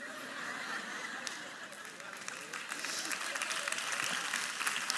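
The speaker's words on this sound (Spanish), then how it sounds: "Señores, no me aplaudan" An audience applauds during a Spanish-language talk, the clapping swelling and thickening toward the end with a few chuckles in the crowd, while a speaker's voice carries over it.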